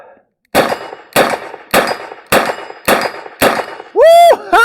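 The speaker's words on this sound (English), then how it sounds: "Let's see whether I can get my 6 hits on the steel gong." Chiappa Rhino 40DS revolver rounds strike a steel gong at 20 meters: five loud metallic clangs at a steady pace, each ringing briefly, then a harsh, louder burst with sweeping tones closes the sequence.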